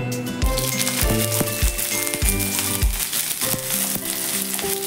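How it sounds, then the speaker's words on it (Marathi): Green chillies sizzle in a small amount of oil over low heat, a steady crackling fry punctuated by regular scraping stirs of a spatula in the pan, with no one speaking. "आता आपण यामध्ये हिरवी मिरची घेतलेली आहे ती घालून घ्यायची आहे"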